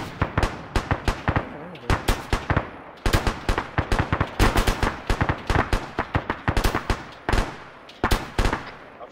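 Rapid, dense gunfire in the military video game Arma: many sharp shots and bursts crack close and loud across the whole stretch, with a faint voice now and then.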